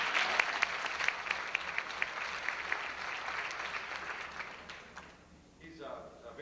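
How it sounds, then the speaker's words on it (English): An audience at a team conference claps for a regional manager, scattered sharp claps over a crowd wash that gradually thins and fades to near quiet by the end. "A little applause for Tim"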